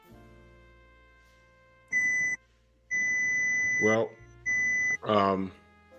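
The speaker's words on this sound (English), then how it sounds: "what's that beeping?" Electronic beeping sounds in a few steady tones of about half a second each, while a person talks between and over them.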